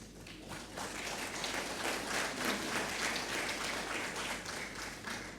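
Steady applause from a ceremony audience in Abidjan at a diploma presentation to the Portuguese President, a dense, even patter of many hands held at moderate distance for the full length, with no speech over it.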